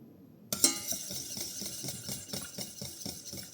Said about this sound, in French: Donc je remue toujours tout le long